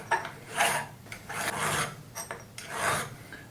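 A round metal part held in a half-opened vise or V-block is deburred by hand: a close rasping file scrapes in about four separate strokes with short pauses between them, and nobody speaks.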